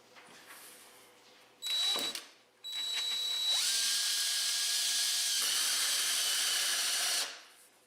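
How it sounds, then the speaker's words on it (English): A power drill drilling into the driver's side of a Polaris RZR cab whines in two bursts, a short one then a long steady run of several seconds, close and loud, with a brief pause between. "Now we'll drill the driver's side, making sure there's nothing underneath here."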